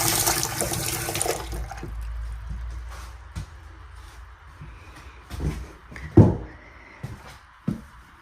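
Water runs through the plumbing of a house under inspection, a rushing flow that is strongest at first and then settles to a softer trickle, broken by a few knocks and clunks.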